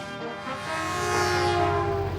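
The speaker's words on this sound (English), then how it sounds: "Trains rumbled through at all hours." A train passes through a river town in the Mon Valley, with a loud, sustained, tonal horn blast over a low rolling rumble, close and steady throughout.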